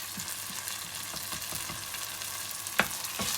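Curry paste stirred in a hot pot, with a soft steady sizzle and faint scraping strokes from the utensil, plus one brief sharper clink, all quiet and close with no talking.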